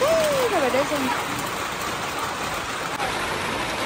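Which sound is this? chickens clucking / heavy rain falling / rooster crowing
heavy rain falling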